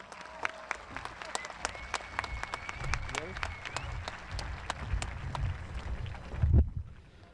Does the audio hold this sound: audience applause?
yes